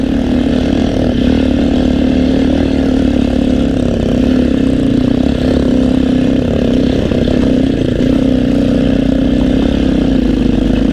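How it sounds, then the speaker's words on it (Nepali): A local motorcycle engine idles steadily with a continuous low rumble and mechanical hum, close by and unchanging throughout, with no talking. "यो चाहिँ मेरो लोकल बाइक हो गाइस"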